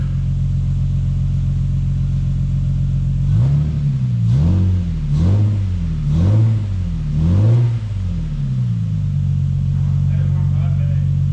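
A Lexus GS300 revving through its exhaust: a steady idle rumble rises into about five rhythmic rev blips in a row, then settles back to idle. The sound is loud and close, with no talking over it.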